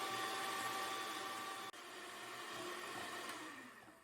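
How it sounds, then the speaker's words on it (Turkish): A hand mixer beating egg yolks for tiramisu whirs steadily and loudly, dipping briefly once and then tapering slightly toward the end, with no talking. "yumurta sarılarımız açık sarı hale gelene kadar karıştırıyoruz mikserle"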